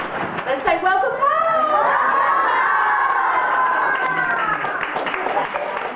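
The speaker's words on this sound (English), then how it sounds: "Surrounded by the sound of applause, Olivia received a warm embrace from the dad" A crowd cheers and shouts loudly and continuously at a surprise homecoming for a Navy sailor, with excited high voices rising and holding over a steady wash of noise.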